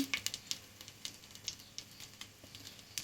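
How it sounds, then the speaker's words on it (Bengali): Hot ghee with a little water in it spattering in a pan as bay leaves go in: quiet, irregular crackles and pops over a soft sizzle, with no voices. "ঘিটা একটু ছিটেছি একটু জল ছিল সম্ভবত তো এখন তেজপাতা দিয়ে দিব"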